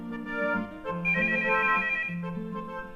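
A telephone in a classic stage comedy rings with a steady electronic ringtone, tonal bursts repeating loudly and alone with no talking.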